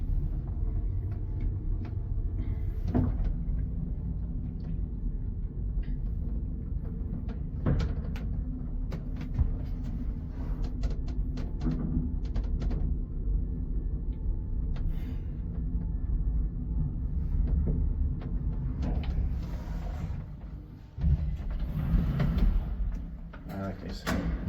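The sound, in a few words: old Hissinhuolto Kone traction elevator doors and ride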